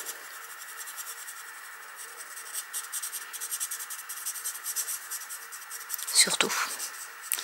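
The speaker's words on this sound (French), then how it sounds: "Et je repasse un coup de clair pour tout mélanger en fait." A Nuvo alcohol marker rubs back and forth over paper to blend a lighter shade into darker colour, a soft close scratching under someone speaking French.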